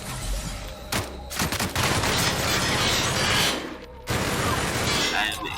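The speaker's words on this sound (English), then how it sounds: "I love this heavy machine gun." Heavy machine gun in The Outer Worlds firing in loud, sustained bursts with brief pauses, a close, dense rattle of gunfire filling the scene.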